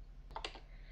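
A few quick keystrokes on a computer keyboard, typing a command into a text-based online game, short soft clicks close up over a low steady hum.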